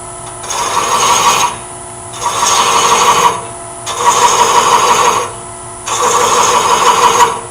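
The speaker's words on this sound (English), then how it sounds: "Once you get the rhythm going and it starts dragging the chaser in, it's not much work." A hand-held thread chaser cutting threads into wood on a lathe, four loud sustained rasping passes of about a second and a half each, separated by short pauses in a steady rhythm over a constant motor hum.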